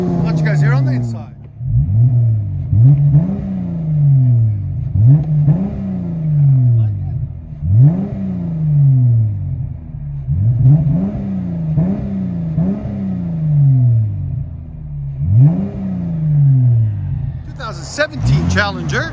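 A 2017 Dodge Challenger with a 3.6L V6 and Dynomax Race Bullet exhaust is revved repeatedly, each rev a rising, rumbling sweep that falls back to idle in a steady rhythm of about eight pulls.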